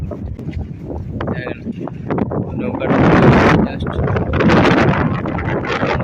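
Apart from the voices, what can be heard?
wind blowing into microphone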